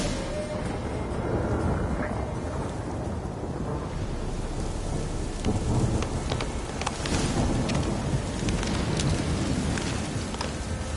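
A steady wash of heavy rain and wind, with rolling thunder and a few crackling strikes, fills a storm scene in The Witcher 3, loud and continuous throughout with no voices.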